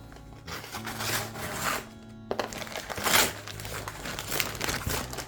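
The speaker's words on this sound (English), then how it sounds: "Let's go ahead and rip these open and see what I got." Paper and plastic packaging being ripped open by hand, heard as close crinkling, crumpling and tearing in several bursts over a few seconds, alone without speech.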